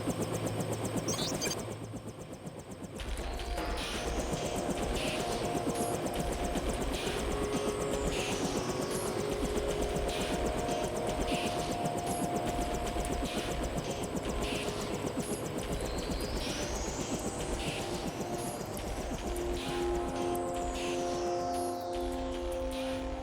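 Helicopter engine in the video game Deus Ex, a steady loud rotor and turbine drone that runs throughout after a short quieter opening, with faint background game tones.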